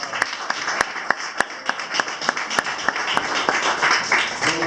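Audience applause after a performance at a cultural event, a steady moderate wash of many hands with sharp individual claps standing out, voices murmuring underneath.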